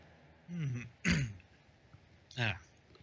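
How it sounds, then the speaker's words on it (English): A man with a cold clears his throat three times in quick succession, close and fairly quiet, each a short rasping burst with brief pauses between. "I got a bit of a cold myself, so I'll clear my throat"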